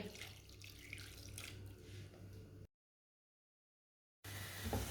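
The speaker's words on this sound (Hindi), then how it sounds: "आधा कप पानी डाल लेंगे।" Half a cup of water being poured into a pan for a jaggery recipe, a close, steady splashing pour that cuts off abruptly, falls silent, then returns briefly.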